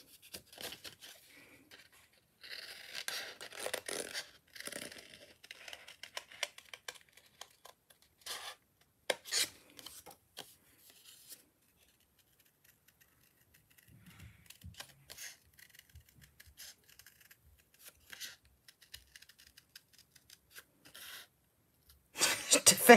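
Good scissors trimming around a stencil at a craft table, giving soft, scattered snips and rasping paper cuts in irregular bursts, close and fairly quiet, with a louder crisp burst at the end.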